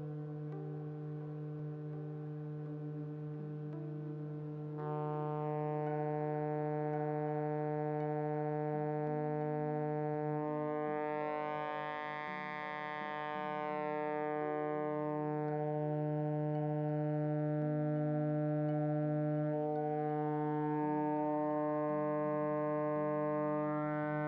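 A steady electronic tone rich in stacked harmonics, a sine wave run through a DIY eurorack mixer, drones continuously, its upper overtones shifting and swelling midway, with no voices present.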